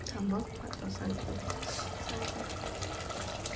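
Hot water splashes steadily into a pot of Kolhapuri chicken curry (tambda and pandhra rassa), a continuous pouring rush heard close up while a person speaks over it.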